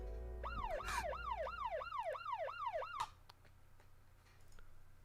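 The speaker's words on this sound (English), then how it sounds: "Lindsay, please turn on the siren." A siren switches on and sweeps through a quick rising-and-falling electronic wail, repeating about eight times before cutting off abruptly and leaving a low steady hum.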